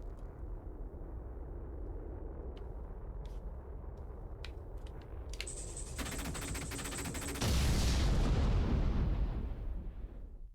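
Objects blow up in an Xbox Live Indie game, with a string of sharp blasts followed by a dense, rumbling burst of explosions that swells loudly before fading; no one speaks.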